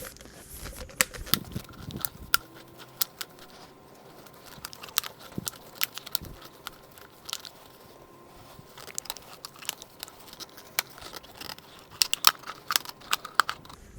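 A tool cuts through the steel shell of an UltraGuard Gold oil filter, producing irregular sharp scraping clicks and crunching snaps at close range, with uneven bursts and short pauses between them.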